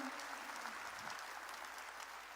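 A church congregation claps in steady applause during a Korean sermon, a dense, continuous patter of many hands filling the space at moderate loudness without speech.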